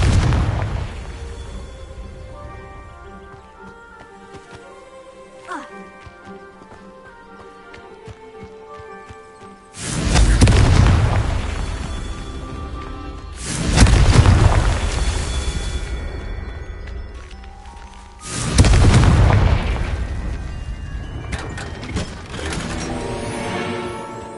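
Confringo fire spells from Hogwarts Legacy blast three times, each a loud, booming explosion that rumbles and slowly fades, with quieter game ambience between them.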